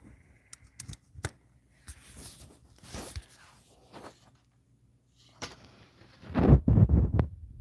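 Oracle cards are shuffled by hand during a reading, soft intermittent riffling and sliding with scattered taps and pauses, close and quiet, ending in a louder burst of handling.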